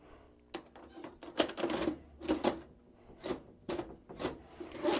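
A vintage VHS VCR mechanism clunks, whirs and clicks in an irregular series of mechanical thumps and grinding bursts, close and fairly loud, as the faulty unit cycles through its eject and loading motions.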